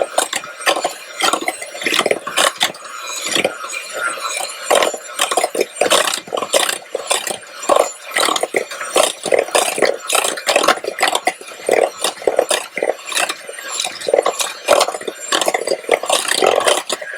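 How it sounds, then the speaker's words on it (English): Gingersnap cookie dough being mixed in a bowl, a steady run of close scraping and knocking strokes against the bowl in quick irregular rhythm, with no talking. "Done mixing."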